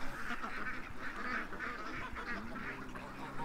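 Tagged ducks heading toward a creek call in a steady, overlapping chorus of nasal quacks at moderate loudness, continuous throughout without talk.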